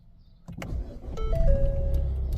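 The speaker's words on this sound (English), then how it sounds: "Now let's see if the car can start with this one." A 2018-on Ford Focus Mk4 with an aftermarket virtual cockpit display cranks and starts up close, a quick clunk giving way to a steady, rising engine drone with electronic chimes over it.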